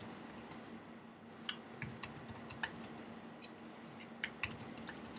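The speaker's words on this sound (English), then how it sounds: "So go ahead and type your password in." Someone types a password on a computer keyboard, a quiet run of soft, irregular keystrokes clicking in small bursts over faint room hiss.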